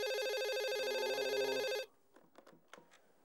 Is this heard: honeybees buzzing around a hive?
no